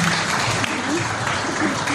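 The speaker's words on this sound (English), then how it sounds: "Give him a round of applause" A crowd claps at a public debate on the Scottish independence referendum in Irvine, Ayrshire. Brief, steady applause with talk mixed in underneath.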